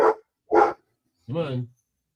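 A pet dog indoors gives two short barks followed by a longer whining, howl-like vocalization, close and loud, with no talk over them.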